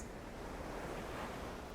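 Ocean waves wash in a continuous, soft, even roar of surf, distant and faint with no distinct breaks and no voices.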